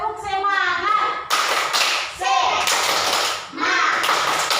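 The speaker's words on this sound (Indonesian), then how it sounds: "tepuk semangat" A class of schoolchildren performs the rhythmic 'tepuk semangat' clap chant, bursts of loud group clapping alternating with chanted young voices, close and energetic.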